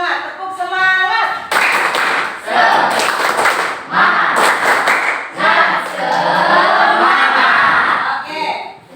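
A classroom of students performs a rhythmic 'tepuk semangat' clapping chant, with loud bursts of group clapping between chanted voices, coming in several energetic phrases close up.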